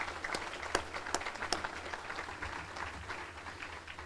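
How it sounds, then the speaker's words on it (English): At a chamber of commerce business leader breakfast, the audience gives a round of applause for event partners: a full room of clapping with a few sharp, close individual claps standing out, and a low hum of the venue beneath. "let's give them a round of applause because they do make these possible"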